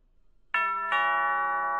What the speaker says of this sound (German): Am nächsten Morgen werde ich von der Türklingel geweckt.